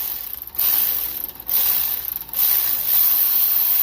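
A ratchet backs a 10mm nut off the starter trigger wire on a 6.0 Powerstroke, during a swap to a 6.7 starter. Up close it gives loud steady clicking runs split by three short pauses, with no talk.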